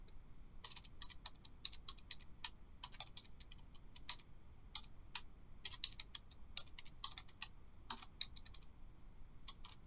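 Quick bursts of typing on a computer keyboard while entering MATLAB code, crisp close key clicks in uneven runs with short pauses, fairly quiet and with no talk.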